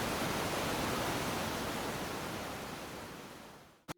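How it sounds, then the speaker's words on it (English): Steady roar of falling water, a dense broadband wash that holds evenly and then fades out at the end. "they could see only the silver sheet of falling water"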